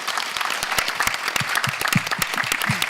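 A conference audience at a GOVIS 2018 panel practicing their ordinary clapping, a burst of fairly loud, dense applause with individual sharp claps standing out, while a few voices murmur underneath.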